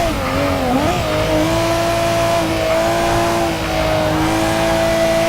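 A 2002 Nissan R34 GTR races in Forza Motorsport, its engine holding a loud, steady high-pitched drone with rising and falling revs and a brief tire squeal near the start, close and continuous with no talk.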